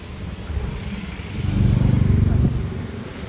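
A Yamaha Aerox motor scooter engine drones up close and steadily, swelling louder halfway through.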